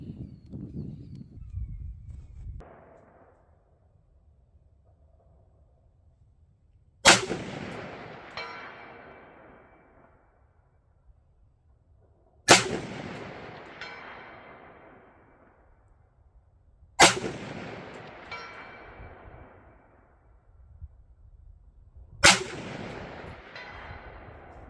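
Four sharp rifle shots from a budget 1-6x24 LPVO-scoped rifle while zeroing, evenly spaced several seconds apart, each a loud crack with a ringing outdoor decay, with a faint low rumble before the first.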